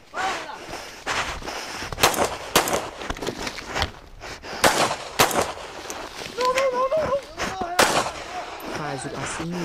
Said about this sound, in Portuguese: O cara começou a atirar em todo mundo.